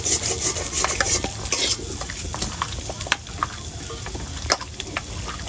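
Chicken is mashed and mixed by hand with ground spices, ginger, garlic and chopped onion for a village-style red curry, making close, busy squelching and scraping with clinks of the pot.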